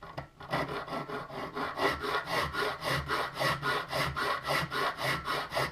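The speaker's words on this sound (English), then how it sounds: "This tooth is sharpened in this direction, so I'm going to be pulling down a little bit, putting a little pressure towards me this time." A file sharpens the teeth of a sawback knife in rhythmic, evenly spaced rasping strokes, about three per second, close and steady with no talking.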